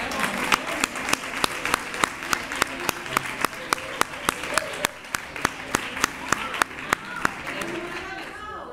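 A crowd at the Three Kings proclamation event in Nerva applauds an award presentation, and regular sharp claps, almost a rhythmic beat, stand out over sustained clapping and background voices.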